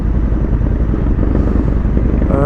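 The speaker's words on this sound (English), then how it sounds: "It brings a lot of motorcycles," Several motorcycles rumble steadily at a meet-up, their engines loud and close, forming a continuous growl with a faint clatter and no talk.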